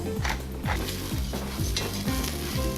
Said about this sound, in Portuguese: Eu baixei a chama da panela e vou trabalhar um pouquinho essa lentilha dessa maneira.